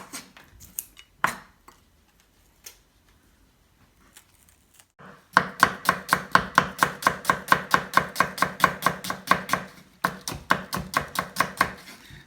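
A knife finely chopping onion for fish molly, first in a few scattered taps, then in a fast, steady run of crisp cuts on a board, close and alone with no talk.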